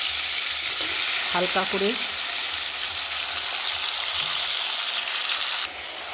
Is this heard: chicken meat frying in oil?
yes